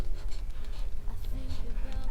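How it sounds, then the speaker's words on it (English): Marker tips scratch and squeak across paper while names are written, in short irregular strokes up close, with children's voices and classroom chatter mixed in. "Write it neatly."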